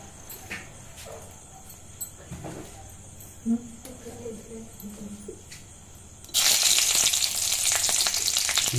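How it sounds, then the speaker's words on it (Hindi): Green chillies dropped into hot oil in a kadhai burst into a loud, steady sizzle after several seconds of quiet kitchen clatter and faint voices. "इस कढ़ाई में हमने तेल डाला और तेल डालने के बाद मिर्चा डालेंगे दोस्तों।"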